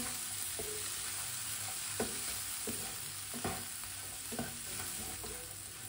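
Masala for an egg and pea dish being stirred in a pan after the stove is switched off, with quiet, evenly spaced spoon scrapes over a faint, steady background hiss.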